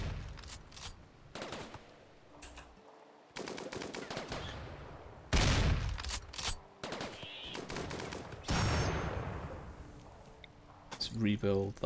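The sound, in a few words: Inferno turret shooting animals in RimWorld video game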